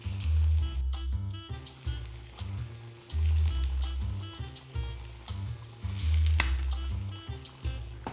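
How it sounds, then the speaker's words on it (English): Aubergine frying in a pan gives a steady sizzle throughout, close and fairly loud, with a low repeating rhythmic pulse running underneath it. "My aubergine, check it time to time that it's not going to be over fried."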